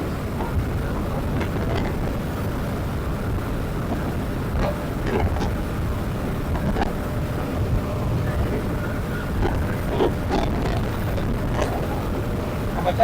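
A brand-new KTM 250 motorcycle at speed produces a continuous, wind-buffeted onboard rumble, with faint scattered clicks and knocks over the steady drone.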